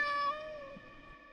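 A cat in the horror game Layers of Fear lets out a single clear, drawn-out meow, close and alone.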